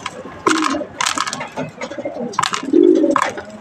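Pigeons in a racing-pigeon loft, heard up close as several short bursts of cooing and fluttering activity with brief pauses between, and no talk.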